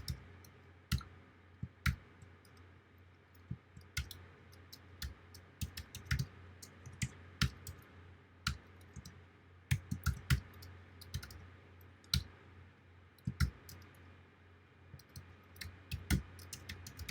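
Someone types on a computer keyboard while entering code, producing scattered sharp key clicks in uneven bursts over a steady low hum, fairly quiet and close, with no talking.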